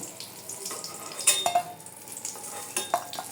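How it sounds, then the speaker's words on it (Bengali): Eggplant pieces fry in oil in a wok with a soft, continuous sizzle, broken by a few sharp clinks and scrapes of a utensil against the pan. "এখন আমি বেগুনগুলো ভেজে নেব"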